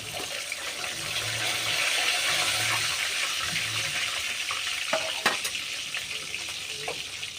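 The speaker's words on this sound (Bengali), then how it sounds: "এইভাবে বাকি মাছগুলো আমি ভেজে নেব।" Fish frying in a pan of hot oil gives a steady, close sizzle that runs through the whole stretch, with a few sharp utensil clicks partway through.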